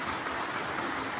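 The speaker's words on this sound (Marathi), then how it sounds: "आमच्या गावाकडं पाऊस पडायला चालू झाला आता." Steady rain pours down over a village at night, a continuous close hiss of drops with no breaks in this brief stretch.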